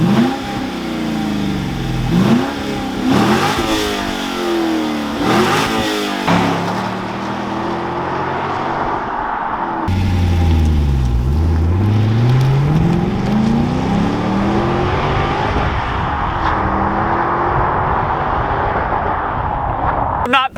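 Stock Cadillac CTS-V V8 exhaust blipped a few times, then a longer rev building and settling, moderately loud with a voice talking over parts of it.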